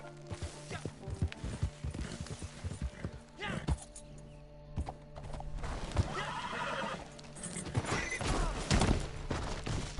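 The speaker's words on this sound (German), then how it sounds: "Boah, dieses Pferd." Horse hooves clip-clop steadily over a busy Red Dead Redemption 2 Online game soundscape, with a loud whinny and neighs standing out near the middle.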